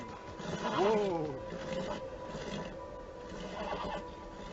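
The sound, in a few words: horse neighing in video game Beyond: Two Souls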